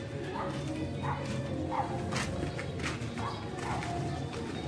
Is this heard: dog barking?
yes